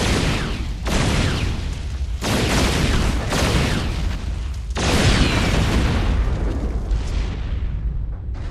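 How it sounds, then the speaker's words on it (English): In the StarCraft II video game, a Terran hover tank fires powerful railguns against a Thor, with heavy booming blasts and rumbling explosions overlapping in a dense, loud barrage. "it uses his powerful railguns to batter through the Thor's thick armor"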